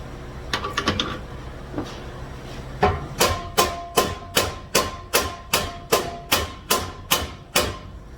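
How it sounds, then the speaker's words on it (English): A lead hammer taps metal in a steady run of about a dozen sharp, ringing knocks, close by, following a few scattered lighter clinks. "And of course I'm using a lead hammer at this point"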